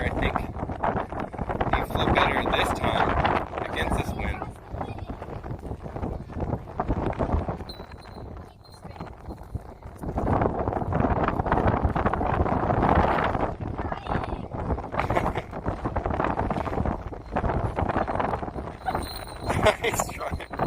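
Strong, gusty wind buffets the microphone on a windy day outdoors, roaring in surges and lulls over about twenty seconds, with people talking intermittently beneath it.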